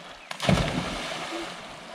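Someone jumps into a river in Ratnagiri, Konkan, making a single sharp splash followed by a brief slosh and settling water outdoors.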